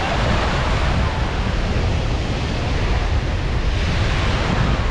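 Sea waves breaking on the beach at Gokarna, a steady loud broadband wash of surf with wind noise buffeting the microphone throughout, no gaps between rolling breakers.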